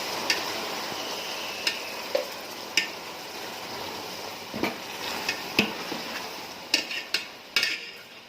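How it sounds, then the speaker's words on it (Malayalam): Crushed nannari roots are stirred for sarbath, producing faint, sparse clicks and taps of a utensil against a vessel over a soft, quiet background. "ഇതിലേക്ക് ചതച്ചു വെച്ച നന്നാരികളുടെ വേരുകൾ ചേർത്ത് കൊടുക്കാം. എന്നിട്ട് നല്ലോണം ഇളക്കി കൊടുക്കാം."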